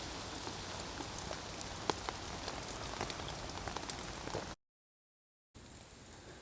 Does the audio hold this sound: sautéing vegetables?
no